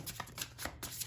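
A deck of tarot cards riffled and shuffled by hand, with quick rhythmic flapping bursts repeating about every fifth of a second, close and crisp.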